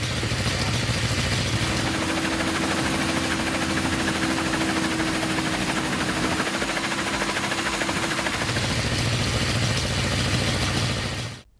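The engine of a homemade helicopter runs steadily, a loud and continuous throbbing drone with a buzzing vibration, up close and lasting the whole stretch before cutting off at the end.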